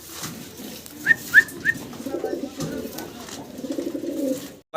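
A pair of pigeons at a pigeon seller's, with soft low cooing and a few short whistling chirps near the start, then a murmuring, steady coo that builds toward the end.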